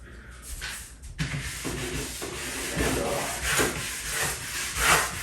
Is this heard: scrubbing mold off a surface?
yes